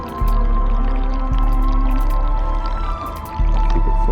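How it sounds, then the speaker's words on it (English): Water pours into a planter box in a loud, close, sloshing stream with low gurgling squelches as the level rises, pausing briefly before resuming. "you can watch that raise as I pour the water in"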